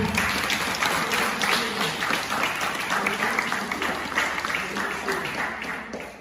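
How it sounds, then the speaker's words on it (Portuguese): A church congregation applauds during a Portuguese-language worship service, clapping continuing under raised voices and crowd noise, loud at first and gradually thinning toward the end. "Aplauda o Senhor."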